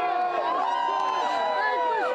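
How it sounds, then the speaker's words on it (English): A dense crowd at a UConn men's basketball victory parade cheers and shouts in a continuous, fairly distant roar with overlapping voices and whistles. "the crowd here is just pumped up"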